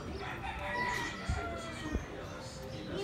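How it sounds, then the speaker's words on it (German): A rooster crows near Santiago de Cuba, a drawn-out call rising over a busy background with clucks and other noise mixed in, fairly close but not loud. "Ein Hähnchen."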